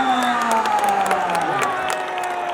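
A crowd at an outdoor kabaddi match in Punjab clapping and cheering, dense and continuous, with shouts and whoops rising over the applause.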